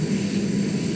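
A steady, close aircraft engine drone holds at an even pitch in the Stormworks video game during a deliberate stall.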